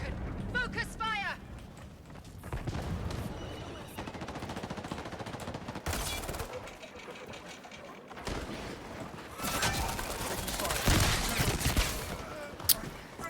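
Rapid gunfire crackles through a shooter match in Highguard, with dense, sustained automatic bursts and booming impacts under someone talking over the action.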